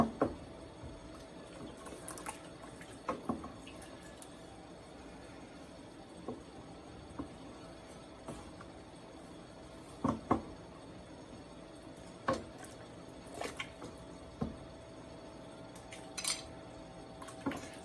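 Dirty dishes and cutlery clink and clatter in a kitchen sink, with sparse, irregular knocks and rattles close by over a quiet background hum.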